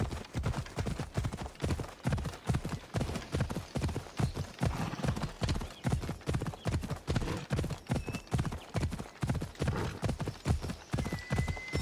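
A horse gallops steadily in Assassin's Creed Odyssey, its hooves clip-clopping in a fast, even rhythm that carries loud and close through the whole stretch, with no one talking over it.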